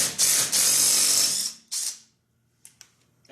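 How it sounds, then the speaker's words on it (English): A Dewalt cordless 3/8 impact driver set to loosen breaks free lug nuts tightened to about 80 foot-pounds, with two loud, close hammering bursts, the first lasting over a second, the second shorter, followed by a couple of faint clicks. "we're going to see if this tool can take these lug nuts off"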